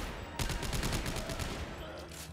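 Rapid gunfire in the sci-fi horror video game Dead Space 3, a dense burst of repeated shots that starts abruptly and carries on loudly for about two seconds before easing off.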